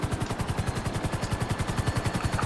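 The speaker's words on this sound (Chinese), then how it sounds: "你看到我们下面开枪射击了？" Rapid automatic gunfire in GTA Online, fired as a fast, evenly spaced stream of shots that runs steadily through the whole stretch without pause.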